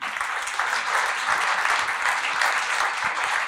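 Audience applause welcoming speaker Corinna Kirchhöfer onto the stage at a speaker slam, a dense, even wash of clapping from a crowd that holds steady throughout without fading.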